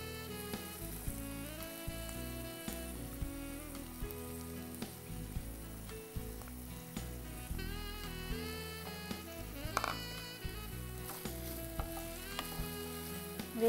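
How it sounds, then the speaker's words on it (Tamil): Ingredients, including onion, sauté in a pan with a continuous soft sizzle, punctuated by frequent light utensil clinks and scrapes throughout, heard close with no talking. "இதே நல்லா வதக்கிக்கோங்க."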